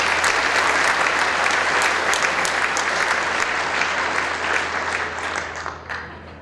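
Dense, sustained audience applause at a city's State of the City dinner, loud and steady from the start and gradually tapering toward the end.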